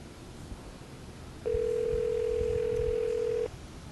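A single steady electronic ring tone sounds for about two seconds over faint background hiss, like a phone ringing on the other end of a line.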